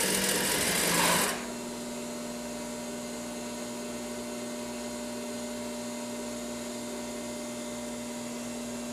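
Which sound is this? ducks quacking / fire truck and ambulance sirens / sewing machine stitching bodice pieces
sewing machine stitching bodice pieces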